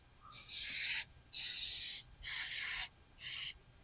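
Four short, loud bursts of aerosol gasket adhesive sprayed onto an aluminum valve cover of a Nissan VK56 V8, evenly spaced hissing blasts close to the can with brief pauses between.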